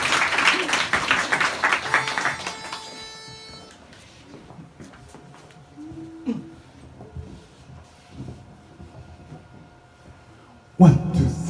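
Audience applause in a bar during a Christmas joint concert, loud clapping at the start that thins out into quieter room noise with scattered sounds, before a sharp burst of noise near the end.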